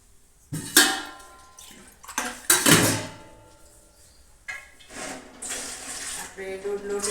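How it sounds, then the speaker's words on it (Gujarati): Water poured into a heavy-bottomed pot on a gas stove while making potato and sago chakri, in several loud, splashy bursts close by, followed by softer clatters and trickles. "અને હવે આપણે તેમાં નાખશું પાણી."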